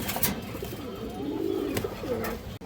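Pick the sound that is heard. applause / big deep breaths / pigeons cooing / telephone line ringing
pigeons cooing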